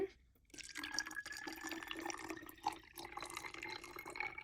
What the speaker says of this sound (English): So I'm just going to go ahead and add the water.